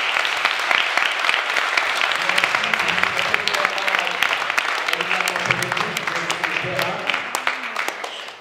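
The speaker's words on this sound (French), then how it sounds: "Je vous demande de les applaudir autant que l'autre" Sustained audience applause at an evening conference against the No Billag initiative in Switzerland, dense clapping filling the whole stretch with some voices and low murmur underneath, steady then tapering slightly at the end.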